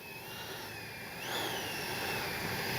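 An FMS 80mm F-86 Sky Blazers RC jet in flight gives a steady airy roar with a thin whine on top. It swells a little louder about halfway through, with no voices.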